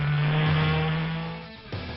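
A 2009 Aprilia RS125 two-stroke sport motorcycle revs high and steady, its buzzing engine note holding, then dipping and rising again near the end, close and loud with no talk.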